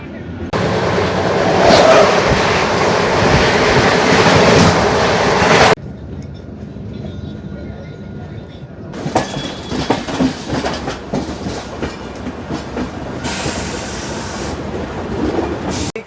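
The Konark Express runs on its rails between Visakhapatnam and Mumbai: a loud, steady rumble with rolling clatter, which gives way partway through to lighter, irregular clicking and rattling of the wheels over the track.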